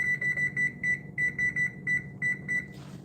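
A timer sounds a rapid string of high, sharp beeps in quick pulsing bursts, steady and fairly loud for about three seconds before cutting off.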